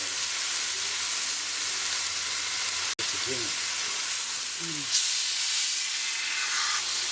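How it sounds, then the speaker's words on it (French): Rump steak sizzles on a hot plancha as a constant dense hiss that runs the whole way through, with a sharp click partway and faint voices murmuring underneath. "la plancha est bien chaude, hein, on l'entend au bruit"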